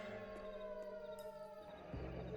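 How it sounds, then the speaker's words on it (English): A siren wails in the distance in the video game L.A. Noire, a steady tonal drone holding at moderate volume over background game ambience, with a low rumble rising near the end. "I think the siren's back there."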